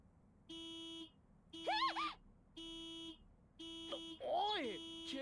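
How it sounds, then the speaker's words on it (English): A car alarm sounds in the Jujutsu Kaisen Phantom Parade game, its door practically hanging off. Steady buzzing tones pulse on and off in a regular rhythm, close and loud, while excited voices speak between and over the blasts. "The alarm's going off! Turn it off!"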